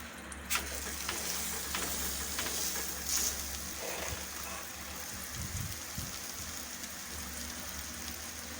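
Aloo paratha frying in ghee on a pan gives a steady, close sizzle with soft crackles and a few brief spatters, continuous throughout with no talking.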